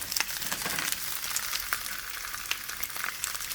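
Bok choy stem pieces fry in a hot pan with a steady, bright hiss of sizzling oil and small crackling pops, close and continuous, without speech.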